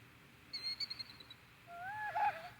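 Wild bird guarding its egg giving warning calls outdoors: a quick series of thin, high chirps followed by a louder, rising whistled squeal, close and clear against quiet surroundings.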